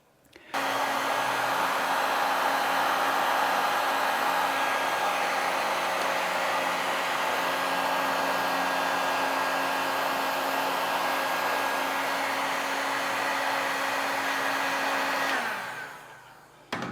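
A heat gun blows steadily for about fifteen seconds, a loud even roaring whoosh with a faint whine, while it shrinks heat shrink tubing onto a heavy-duty copper lug, then cuts off.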